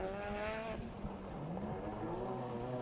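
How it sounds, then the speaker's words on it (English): A rallycross race car in a 2011 Global Rallycross heat rounds a hairpin, its engine note rising and falling with audible tire squeal and skidding throughout, loud and close, with no speech over it. "Matthew Johnson is going around the hairpin now"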